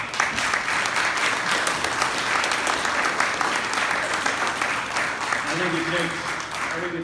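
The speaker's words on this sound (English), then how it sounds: "Let's give them all a round of applause." Audience at a Republican mayoral debate in Peru, Indiana applauding the candidates, steady sustained clapping throughout, with a voice speaking over it near the end.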